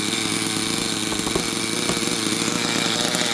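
A 1998-era Duratrax Maximum ST nitro RC truck engine idles steadily close by, a continuous buzzy drone with a dense rattling texture and no pauses.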